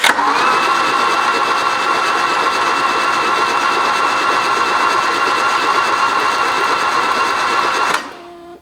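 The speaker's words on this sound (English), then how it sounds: "Let's spin her over and see what comes out of it." An abandoned 1981 VW Rabbit engine cranking over on the starter after soaking, a loud, steady whirring drone for about eight seconds that cuts off abruptly.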